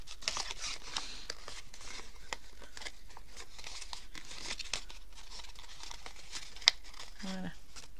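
Paper crinkles and rustles in close, uneven bursts as it is folded back into an advent calendar box, with a person talking throughout.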